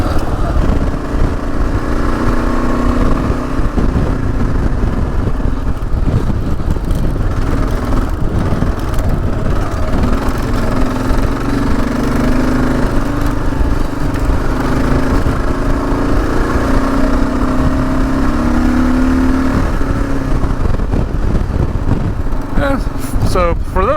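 A Gen 3 Kawasaki KLR motorcycle runs at full throttle through sand, its engine drone steady and loud for the whole stretch, with a voice talking over it.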